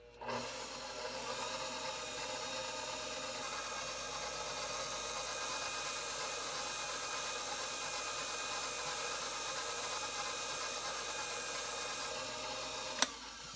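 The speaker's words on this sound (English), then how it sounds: "I'm going to add a cup of flour here and give it time to mix" An electric mixer works flour into yeast roll dough with a steady, unbroken motor whir that holds for the whole stretch, ending in a single sharp click.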